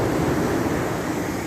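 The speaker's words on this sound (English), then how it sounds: "I think the tide's actually rolling in" Ocean waves roll in as the tide rises at USAL Beach, a loud, constant wash of surf and wind with no distinct breaks.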